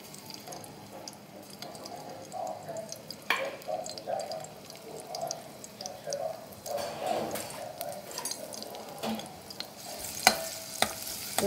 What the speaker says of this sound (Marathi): आता हा लसूण आहे, त्याच्यामधला अर्धा लसूण भाजीत घालूया।